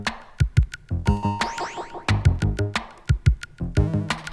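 A synthesizer sound gives rhythmic, bright electronic pulses with sweeping, bubbling pitch glides over a steady beat, loud and upfront, no speech.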